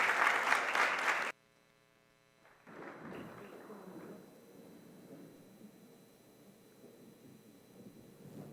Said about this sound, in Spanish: Recibamos este aplauso